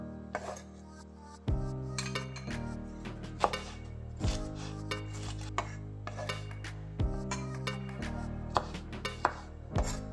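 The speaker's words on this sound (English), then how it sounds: "I'm going to mince these up." Knife mincing tomatoes, bell peppers, white onion, garlic and fresh oregano on a board, with a steady series of close, crisp chopping taps over faint music.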